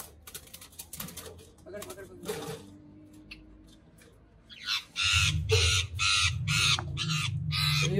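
Hand-tame parrots give harsh, loud squawks and calls in repeated bursts, crowding the later part. A few voices are heard faintly in the quieter stretch before.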